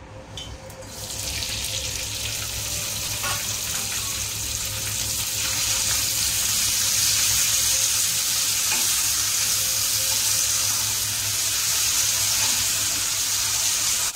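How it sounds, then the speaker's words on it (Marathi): Green chillies hit hot oil and fry with a loud, steady, dense sizzle that swells and holds for the whole stretch, close to the pan with no voices. "आता याच्यामध्ये मी तेल टाकते आणि मी मिरची टाकत आहे।"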